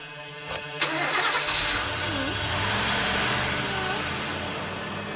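Cartoon car engine cranking and starting, with a sharp start burst near the beginning followed by a steady, loud running engine throughout.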